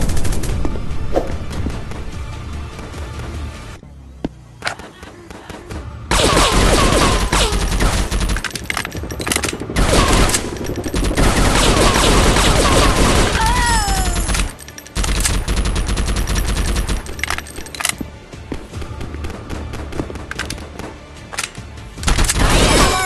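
Rapid automatic gunfire from an Android first-person shooter game, Counter Terrorism, with loud sustained bursts of shots, brief pauses and booming impacts.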